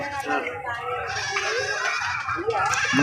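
Goats bleat repeatedly at the busy Wednesday goat market in Thirumalagiri, their cries rising over steady nearby chatter of buyers and sellers.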